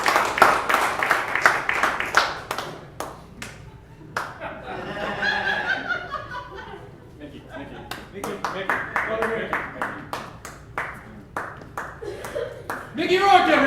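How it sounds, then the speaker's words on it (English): A studio audience claps and laughs for someone on a live comedy show, with scattered applause and chuckles under ongoing talk from people on stage. "No, don't clap for me."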